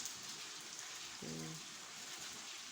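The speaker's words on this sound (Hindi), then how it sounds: "और फिर बारिश आ गई है" Rain falls steadily in a quiet, even wash throughout, with a brief low hum briefly rising in the middle and no speech.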